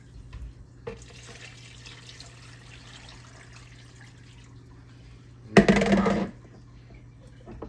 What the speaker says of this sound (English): All the way up with water, y'all.